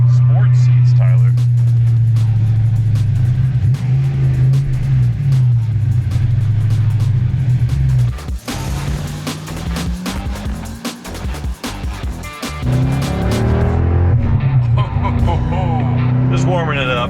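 A car engine warming up idles with a steady low drone, then revs up in several loud surges while people talk nearby.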